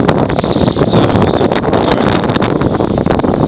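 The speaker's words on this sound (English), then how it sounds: "the wind's picked up and this doesn't look like fun to paddle into" Strong wind buffets the microphone on the Exe estuary during a canoe trip, a loud continuous roar with constant rumbling gusts and no break.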